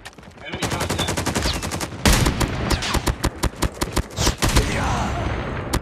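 Rapid automatic gunfire from Call of Duty Mobile on the Shipment map in Kill Confirmed mode, loud close bursts of shots with short gaps, then a denser, steadier spray of fire.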